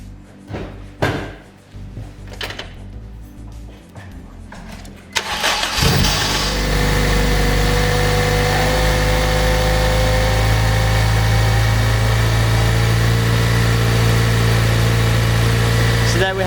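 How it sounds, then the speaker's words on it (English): Honda Civic Type R EP3 engine starting with a loud whirring starter motor, catching and settling into a steady close idle that runs alone to the end. "Bit of a loud starter motor, but that is a common thing on Ep3s"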